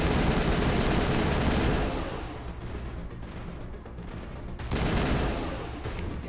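Dense gunfire in the Mass Effect video game, loud and sustained for the first two seconds, then continuing as softer bursts before swelling again near the end, with no talking over it.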